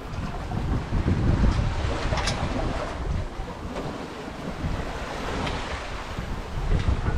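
Constant rushing wind and sloshing waves surround a sailboat moving across the Gulf of Mexico, with heavy buffeting on the microphone and a steady low rumble throughout.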